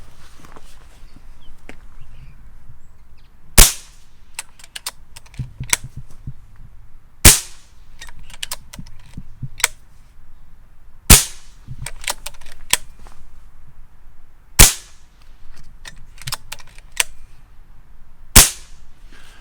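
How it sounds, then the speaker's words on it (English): A Kral Puncher Maxi multi-shot PCP air rifle is cycled by its lever and fired, giving five sharp, loud cracks spaced a few seconds apart, with quieter clicks and mechanical handling noises in between. "Push your lever forward, and then thereafter you're going to be able to cycle the action."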